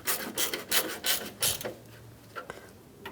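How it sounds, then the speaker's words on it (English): Rasping, ratcheting bursts from a hand tool tightening headlight bolts on a 1997-2001 Honda CR-V, several quick close strokes in a row, then a fainter pair near the end. "Now we'll tighten these down"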